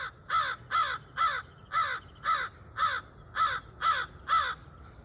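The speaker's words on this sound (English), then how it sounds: "Yes, I talk to birds." A crow caws over and over outdoors, nine harsh, evenly spaced calls in a steady rhythm, fairly close and clear against a quiet background.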